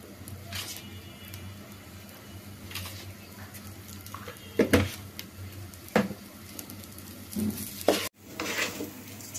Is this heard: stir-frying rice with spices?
yes